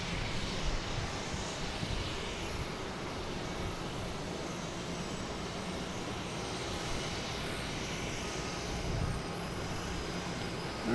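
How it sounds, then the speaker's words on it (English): A Boeing 737 MAX 9 arriving from San Diego at Boston Logan produces a steady, broadband jet engine roar that holds at moderate loudness throughout, with a slight swell near the end. "From San Diego, an A737 MAX 9."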